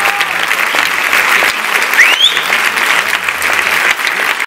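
Dense crowd applause, a short burst of many hands clapping at steady loudness for a few seconds, then cut off abruptly.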